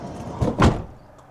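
A campervan's sliding side door is pushed shut with a heavy slam, one brief loud thud after a smaller rattle of the door running along its track, heard close up with no voices.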